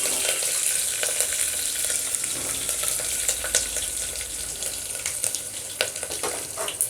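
Dried red chillies fry in oil for gongura boti curry, a steady bright sizzle filling the whole stretch with scattered crackles and pops, close and fairly loud, with no voices.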